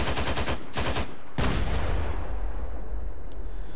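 A 7.62 machine gun on a Russian vehicle in a video game fires in loud, rapid full-auto bursts, a short burst followed by a longer sustained stream of shots over a dense rumbling backdrop, with no talking.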